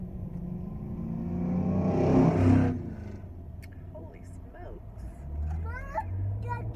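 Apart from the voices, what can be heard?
old truck passing by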